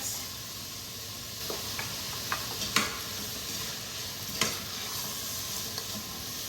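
Chopped vegetables seasoned with salt and black pepper sauté for split pea soup, a soft even sizzle punctuated by a few sharp spoon clicks and stirring scrapes against the pot.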